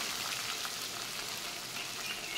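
Potatoes and drumstick pods frying in hot oil in a wok with tempering spices, giving a steady, close, moderately quiet sizzle that runs unbroken with no talking.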